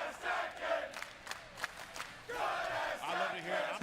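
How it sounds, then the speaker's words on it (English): Crowd at a Tekken 8 tournament top 8 cheering and shouting, a steady roaring swell that drops briefly then surges again, heard through a livestream. "the crowd is letting you know what we're seeing here"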